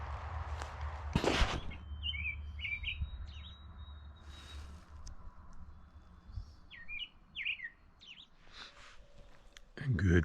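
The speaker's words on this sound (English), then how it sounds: "The birds woke me so gently this morning." Birds sing in the early morning near a campsite on a walk across Canada near Kenora, Ontario, scattered clear chirps and short whistled phrases at moderate distance, with a few nearby rustling footstep-like thumps and handling noises.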